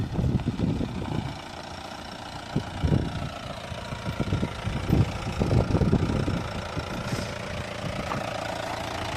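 Off-road jeep on a hill-station safari, its engine running at a low, uneven idle, fairly quiet, with knocking bumps and rumbles rising and falling over a steady background.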